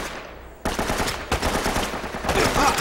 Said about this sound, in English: Which one of y'all shooting me?